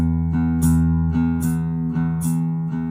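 An electric guitar plays a swung shuffle, sustained low notes with bright percussive strums falling in an uneven long-short rhythm, clear and close.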